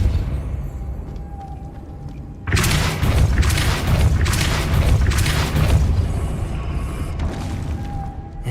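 A Depulso spell cast in the Hogwarts Legacy video game lands as a sudden, loud booming burst that sustains for several seconds with pulsing surges, after a quieter ambient stretch.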